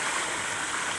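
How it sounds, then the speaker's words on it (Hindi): Water poured into a pot of fried chicken for haleem, a steady, full rushing splash that fills the brief moment without pause. "अब इसमें पानी शामिल कर देता हूँ"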